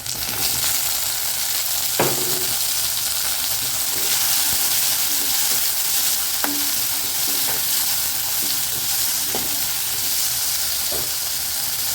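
Tomatoes and green chili sautéing in a pan for ragi semiya upma, giving a steady close sizzle and frying hiss throughout with occasional sharp stir or utensil clicks.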